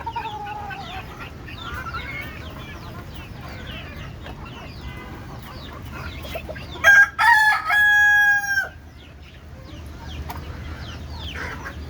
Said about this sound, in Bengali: সবগুলা মুরগি ছেড়ে দেওয়া হয়েছে